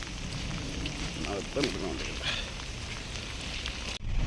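Heavy rain falls on a truck parking area during parcel loading, a dense, steady, close hiss that fills the whole stretch, with a faint voice murmuring briefly in the middle.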